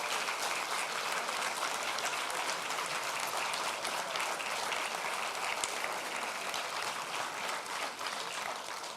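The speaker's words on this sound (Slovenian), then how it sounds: "prosim še enkrat en velik aplavz" An audience at a commemorative ceremony in Portorož applauds in a long, dense, even burst of crowd clapping, loud and unbroken throughout.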